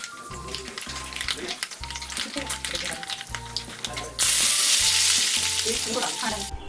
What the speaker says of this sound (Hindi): जब तेल गर्म हो जाए तब हम उसमें डालेंगे जीरा, सरसों और उसके बाद थोड़ा सा हींग।